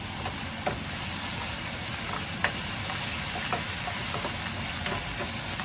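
Mushroom cream sauce with shrimp sizzling steadily in a pan, a continuous frying hiss with occasional small pops and stirring clicks, fairly close and with no talking.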